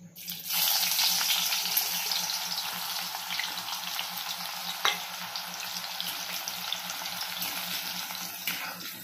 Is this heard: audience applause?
no